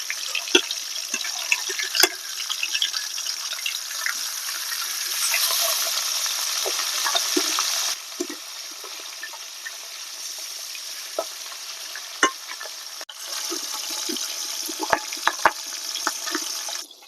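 Pabda fish frying in oil in a pan, a steady close crackle and sizzle with small pops and occasional clatter, running continuously without speech.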